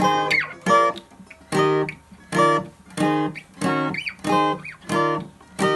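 A series of strummed guitar chords, roughly nine evenly spaced strums with short gaps, sounding somewhat dissonant and moderately loud.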